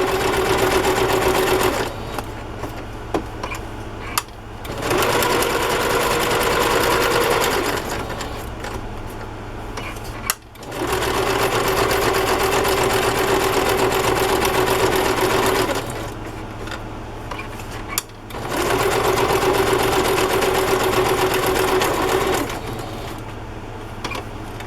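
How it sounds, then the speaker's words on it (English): A sewing machine runs zigzag stitches in black thread through a journal, in four long steady bursts of rapid whirring separated by brief pauses, loud and close with no voices. "I'm going to use zigzag stitch, and that way the zigzag will come off onto the cream colored part."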